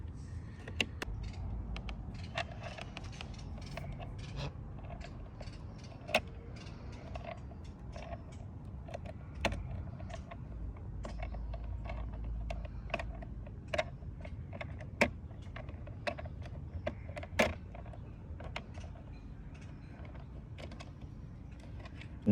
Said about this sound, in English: Got my T10. Just gotta loosen these.